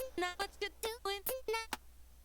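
A voice garbled into choppy, robotic fragments, about eight clipped bursts cutting in and out like a lagging online voice chat.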